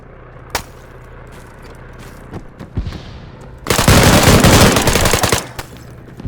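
Sniper gunfire in the ARMA 3 video game: a few sharp, separated shots, then a loud, dense burst of rapid fire lasting under two seconds, followed by a couple of scattered cracks. Nobody talks.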